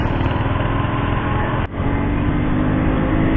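Superbike engine running steadily while riding on an open morning road, a loud continuous broadband drone with a brief dip midway before the engine note returns at full strength.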